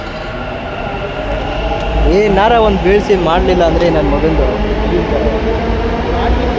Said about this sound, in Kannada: ಮೆಟ್ರೋ ಸ್ಟೇಷನಲ್ಲಿದ್ದೀವಿ.